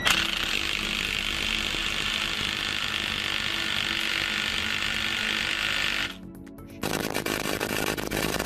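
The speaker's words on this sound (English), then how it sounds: "use my impact wrench." Impact wrench working on the U-joint of a Dodge RAM 1500, giving a loud, steady, close rattling hammer that runs for about six seconds, drops out briefly, then resumes.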